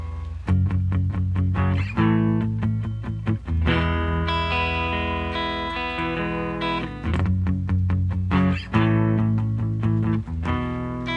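An electric guitar plays in a clean tone, with plucked notes and ringing chords in a steady rhythm.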